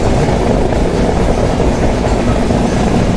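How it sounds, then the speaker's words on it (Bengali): The Padma Express intercity train rumbles steadily at night on a long curve outside Joydebpur, a loud, continuous rolling roar with wheel clatter and no talking. "আমাদের আন্তনগর পদ্মা এক্সপ্রেস আরও একটা সুবিশাল কার্ভ নিচ্ছে"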